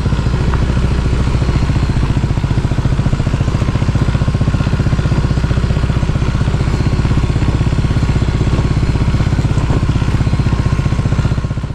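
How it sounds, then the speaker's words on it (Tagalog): A motorcycle engine chugs loudly and continuously, a rough, rapid clattering putter that stays close and steady throughout. "kung gaano nakatanda ang motor na yan kay Daran ni Van Helsing"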